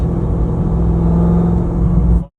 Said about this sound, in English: Coming right back up. Downshift. Downshift.